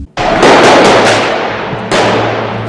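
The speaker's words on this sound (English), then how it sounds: "A 4-month manhunt ended today in a hail of gunfire." A sharp, loud bang followed by a crackling burst of rapid shots, then a second sharp report that rings out and slowly fades.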